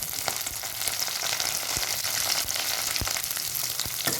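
Garlic and green chillies, tempered with onion seeds, crackle in hot oil, a bright, steady sizzle close by with scattered sharp pops and spits, without voices.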